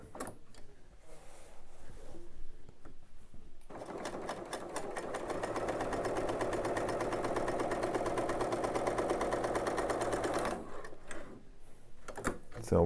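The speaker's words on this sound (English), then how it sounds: "now we are ready to start stitching" Bernina L890 overlocker/serger running a cover stitch: a steady, fast mechanical whir with rapid needle ticking runs for about seven seconds, bracketed by quieter handling clicks and soft movement before and after.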